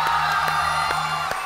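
A studio audience at a singing game show cheers and claps, a steady wash of crowd noise with scattered whoops and sharp claps throughout.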